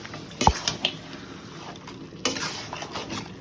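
Mutton curry with turmeric powder is stirred in a pot, with a sharp clank of utensil on metal, then soft scraping and squishy stirring, and a second burst of scraping near the end.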